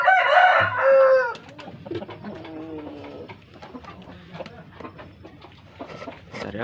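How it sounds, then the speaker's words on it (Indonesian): Brahma chickens crowing loudly up close at the start, followed by softer clucking and scattered bird calls continuing in the background. "Itu ayam-ayam Brahmanya."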